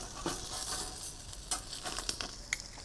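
Sausages cooking on a Char-Broil X200 portable gas grill at its lowest setting, a faint, quiet crackle and sizzle with a few sharp pops, heard close and without talk.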